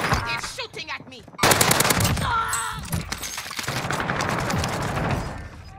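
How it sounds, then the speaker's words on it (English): Call of Duty Warzone gunfire on Rebirth Island, with loud, close bursts of rapid automatic fire sounding over game effects, mixed with a voice speaking early on. "They're shooting at me."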